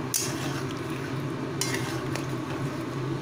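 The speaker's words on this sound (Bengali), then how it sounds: "এবারে ভালোভাবে মিক্স করে দিলাম" Achari chicken with a sprinkling of amchur powder stirred in a pan: a steady run of scraping and clinking with sizzling frying beneath, close by with no talking.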